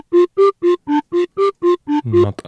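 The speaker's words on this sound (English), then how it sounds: "With the chorus it sounds like this." A synthesizer playing a run of nine evenly spaced, plucky notes with a wide, shimmering chorus sheen, ending on a lower, smeared note.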